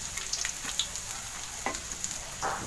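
Garlic sautéing in a pan for a green papaya and sardine dish, a soft continuous sizzle with occasional light clicks and scrapes of the utensil.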